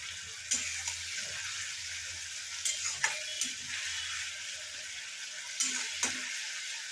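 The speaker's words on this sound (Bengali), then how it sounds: "এটাকে একটু কষিয়ে নেব" Curry masala made with plain yogurt frying and being stirred in a pan for curry pakoda: a steady sizzle broken by a few sharp scrapes and clinks of the spoon, close up with no talking.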